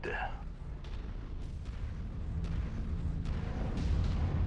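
Mech weapon blasts in the MechWarrior arena battle game, with a few sharp, moderately loud shots spaced through a steady low rumble and a voice talking.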